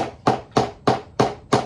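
A hammer pounds a crab shell five times in an even, steady rhythm, each blow a sharp, close crack with a short decay.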